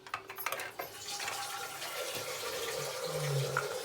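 Water is poured into a pot while veg momos and chicken soup are cooking, starting with a few clattering knocks and then settling into a steady close-up pour, with no speech.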